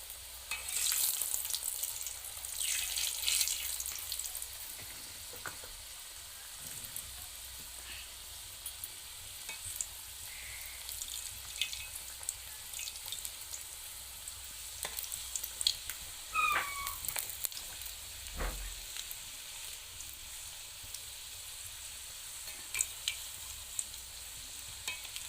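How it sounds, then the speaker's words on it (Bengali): Coconut-filled pitha fry in oil with a soft, steady sizzle, louder at first and then settling. Scattered clinks and short sounds come through, and a faint meow-like cry is briefly heard. "এগুলো খুব সুন্দর লাল লাল হয়ে ভাজা হয়ে গিয়েছে"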